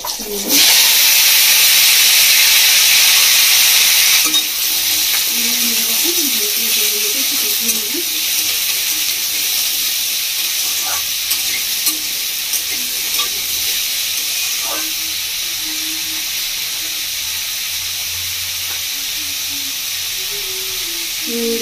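Cut potatoes and radish dropped into hot oil left from frying small fish, a loud burst of sizzling at first that settles into steady frying hiss with stirring, and a voice talking now and then.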